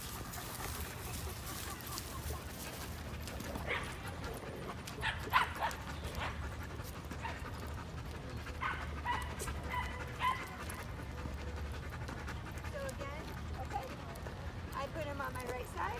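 Dog park in St. Petersburg with scattered barks and yips from several dogs, mostly at a distance over a steady outdoor background, with people talking faintly now and then.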